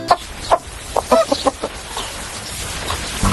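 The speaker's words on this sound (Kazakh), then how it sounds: "Тауық қандай дыбыс шығарады?" A chicken clucks in a series of short, uneven bursts, fairly close, with a brief pause partway through and no voices.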